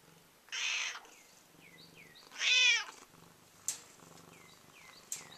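A male domestic cat purrs softly while being petted. Two loud, chirpy vocal bursts and a couple of sharp clicks break through the low, quiet purring.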